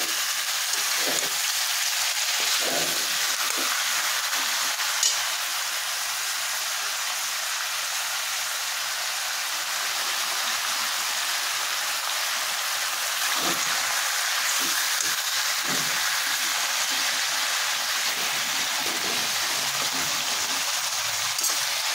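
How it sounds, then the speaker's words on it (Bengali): Country chicken sautés in a pan, a steady loud sizzle and frying hiss throughout, broken by several soft scraping thuds as the pieces are stirred. "ভালো করে নাড়িয়ে নিয়ে আমি একটু কষিয়ে নেবো ভালোভাবে"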